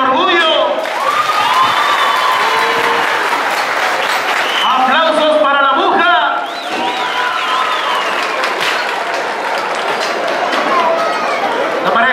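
Audience applause at a televised Spanish-language contest, a dense steady wash of clapping and crowd chatter throughout, with an announcer's voice and shouts riding over it.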